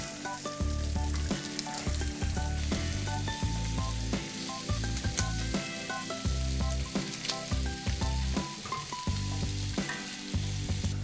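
Shrimp and crab risotto sizzles steadily in a pan, with repeated scrapes and clatters of stirring running through the frying hiss, fairly close and without talk.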